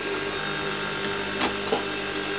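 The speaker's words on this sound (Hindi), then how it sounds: "सेंटर में भी निकाल का सिलाई तिरछी सिलाई मारेंगे हम" A sewing machine runs steadily while stitching a diagonal seam across the center of a homemade cotton cloth mask, a continuous close mechanical whir with a couple of brief clicks.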